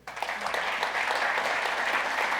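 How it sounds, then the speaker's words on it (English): Audience applause for karate masters at an Okinawa karate event, a dense sustained clapping that swells up quickly and holds steady for a couple of seconds. "please join me to give another applause to all the masters"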